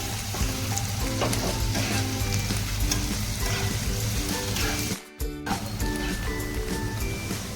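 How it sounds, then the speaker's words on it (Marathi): Chopped medium-sized onion hits hot oil in a kadhai, giving a loud, steady sizzle with stirring scrapes throughout and a brief drop near the end before the frying resumes. "कांदा चिरलेला आहे हा मध्यम आकाराचा तो टाकून घेऊया हे छान आता परतून घेऊया"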